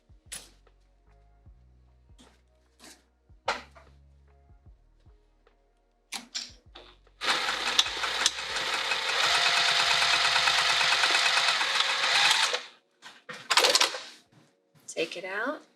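A sewing machine stitching along the fabric edge of a spring roll pouch, a sustained mechanical whir lasting several seconds between scattered clicks and handling knocks, followed by brief bursts.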